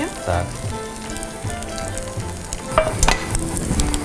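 A tortilla omelette with vegetables and cheese fries in a pan, giving a steady crackling sizzle broken by a few louder scraping and stirring clatters, with a brief spoken word near the start.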